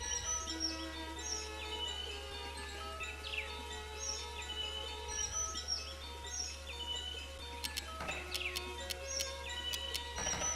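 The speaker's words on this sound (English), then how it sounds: "Hear the birds." Birdsong from the video game OFF: a string of high chirps and tweets, some quick and sweeping, sounding over a steady low hum. A cluster of sharp calls comes near the end, and no one talks.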